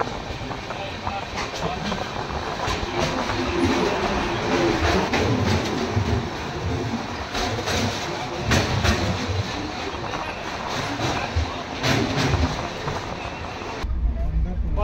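The 12841 Coromandel Express pulls out of Santragachi station, a steady rumbling roll with rhythmic wheel clatter on the rails, while people talk over it inside the coach.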